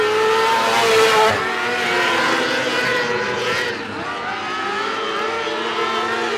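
Sprint race cars roar past on the final lap of a heat, with loud engines revving and shifting pitch as they pass close by, layered into one continuous dense rumble, and a commentator talking over it.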